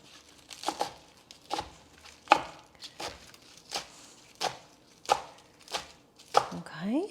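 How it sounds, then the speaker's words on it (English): Knife chopping fresh spinach small on a cutting board, about a dozen crisp, close, uneven chops with leafy crunches between them, heard alone with no talk. "that's just why we have so much spinach. And then just cut it up small"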